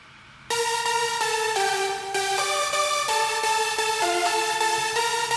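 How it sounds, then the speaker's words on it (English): Layered synth leads, among them the Magnetron preset from Nexus, play a bright, harmonically rich progressive house melody, with steady stepping notes at a loud, continuous level after a brief quiet start. "We also have this lead, Magnetron from Nexus, which is doing pretty much the same thing."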